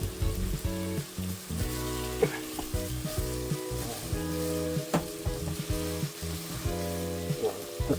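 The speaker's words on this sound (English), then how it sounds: "brown beef" Beef browns in a pan for cheeseburger soup, giving a steady crackling sizzle with scraping and stirring knocks from a utensil and occasional sharp clinks. No voices are heard.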